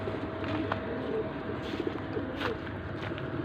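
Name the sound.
pigeons cooing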